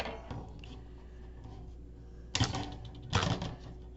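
Cutters trim a candy cane wreath for a Grinch-themed ornament door hanger, with two short, crisp snips about a second apart after a quiet stretch.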